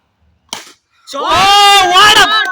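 A cricket bat strikes the ball for a six in a turf cricket match: one sharp, brief crack, then loud, sustained shouting and cheering from nearby players.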